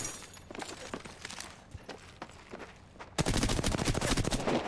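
Gunfire in the Apex Legends battle royale game: scattered sharp shots at first, then a dense, loud burst of rapid automatic fire near the end.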